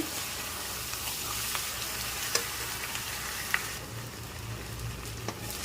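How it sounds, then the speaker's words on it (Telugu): Chicken fry sizzling in a pan over medium flame, a dense continuous hiss with occasional sharp ticks and scrapes as it is stirred, close and steady. "ఇలా తిప్పుతూ ఉండండి, అడుగంటకుండా ఉంటుంది తిప్పుతూ ఉంటే."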